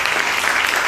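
An audience at a religious sermon claps in a brief, dense burst of applause, steady and fairly loud throughout.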